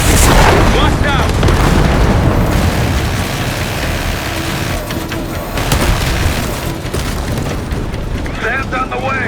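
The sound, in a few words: missiles firing and exploding in video game Call of Duty: Black Ops 6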